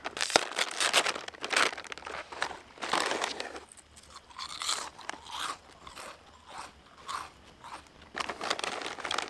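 Crunchy bites and chewing of light, crispy shrimp-flavored Yummy Flakes crackers, close up, in bursts of loud crunching separated by quieter moments, outdoors at a riverside wilderness campsite with no talking.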